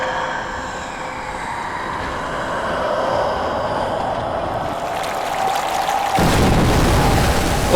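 A grenade goes off in the Rise of the Tomb Raider video game, a loud broad blast that swells into rumbling noise and stays heavy to the end, with no one talking over it.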